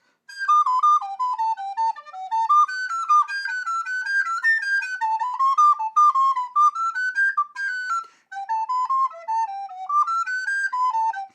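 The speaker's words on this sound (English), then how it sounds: "All in all, I prefer the sound of this recorder because I can play better recorder." A Thomann PFL-200 piccolo flute plays a wavering melody alone, clear breathy tones rising and falling in short phrases with a brief pause partway.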